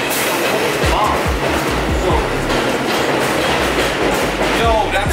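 A ten-car train covered in graffiti rolls past up close, loud and steady, its wheels clattering rhythmically over rail joints the whole time.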